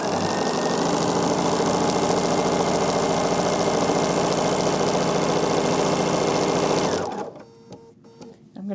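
Sewing machine stitching a quilt-as-you-go block, running loud and steady for about seven seconds before stopping abruptly, leaving a quiet room.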